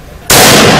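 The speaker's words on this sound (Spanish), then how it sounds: "allí están los primeros disparos" Gunshots fired at a police officer during an attack in France erupt as one sudden, extremely loud, distorted blast that overloads the recording after a brief quiet moment.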